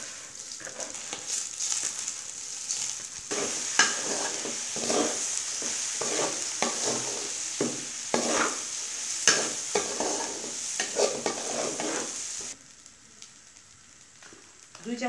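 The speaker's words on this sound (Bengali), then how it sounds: "এখন আমি ভাজা পেঁয়াজের মধ্যে চালটা আস্তে আস্তে দিয়ে দেব" Polao rice being stirred into fried onions in a pot, a soft sizzle under repeated scraping strokes of a spoon, with quiet spells and a pause near the end.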